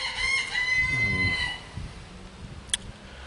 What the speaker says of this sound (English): Looks like someone's got a cockerel nearby.